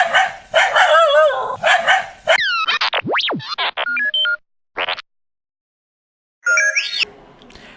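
Cartoon dog barking at a robot, heard as a burst of loud, rapid barks over the first two seconds, followed by springy boings, sliding whistles and electronic robot chirps, then silence and a final bright chime.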